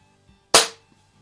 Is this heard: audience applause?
no